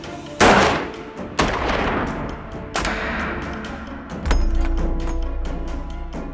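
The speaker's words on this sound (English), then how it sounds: "Five shots are fired into the target." Sniper rifle shots fired at a target at a 100-metre range during calibration, four loud, sharp reports spaced roughly a second apart, each with a booming tail and ringing reverberation, close and alone.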